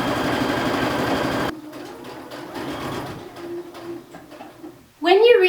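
A sewing machine stitches a baby blanket, running loud and steady for a burst before dropping to a softer motor hum, with a voice speaking briefly at the end.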